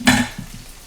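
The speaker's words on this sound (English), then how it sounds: "When the fat starts to render in the bacon, you can start hearing spits as opposed to more of a sizzle." Rendering bacon fat in a pan gives a sharp spit, then a few small pops fade into a low sizzle.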